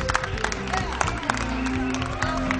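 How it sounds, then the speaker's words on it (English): Live game show audience clapping and cheering for the winning team, a busy, fairly distant patter of many hands with voices mixed in. "Give them a round of applause."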